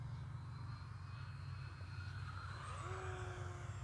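An E-flite Conscendo Evolution 1.5 m RC motor glider flies overhead, its electric motor a faint, steady whine at a distance with a low rumble of wind beneath it.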